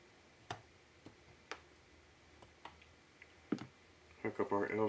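A T5 screwdriver turns small screws into a MacBook Air T-con board, making faint, close, sparse ticks and clicks at irregular intervals over a low room hiss, with a voice coming in at the end.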